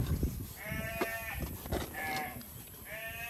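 Sheep bleat repeatedly at a ranch pen during handling, three wavering calls at fairly close range amid shuffling and background noise.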